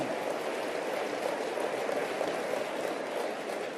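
A motivational seminar audience gives itself a round of applause, a dense, steady wash of clapping from many hands that fills the space evenly without letting up.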